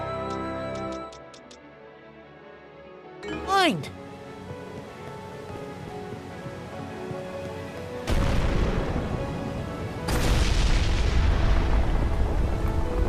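A cannon fires in the video game Ys X with a heavy booming blast and a rumbling roar that surges and swells, following a short whooshing swoop and tinkling effects.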